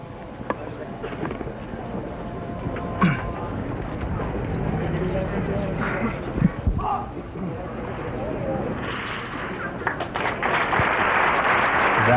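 Applause and crowd noise rise at a Philippine Military Academy commencement drill exhibition, with clapping swelling toward the end amid outdoor ambience, and someone talking over it.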